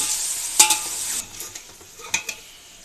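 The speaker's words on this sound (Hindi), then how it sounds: "और अब हमने इसको फ्राई करना है। तो थोड़ी देर में हमने इसको चलाते रहना है।" Ladyfinger (bhindi) with green chillies frying in a pan, a hissing sizzle that fades after a moment, broken by a few sharp stirring scrapes and clinks of a spatula.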